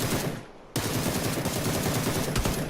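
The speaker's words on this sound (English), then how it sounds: "More gunfire off to my left." Gunfire in PUBG: rapid automatic bursts crackle at fairly close range, a short pause giving way to sustained, dense shooting that continues to the end.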